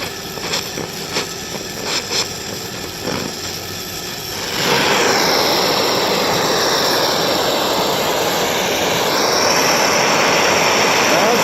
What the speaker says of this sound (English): You're just going to put your adapter on and you're going to weld it together.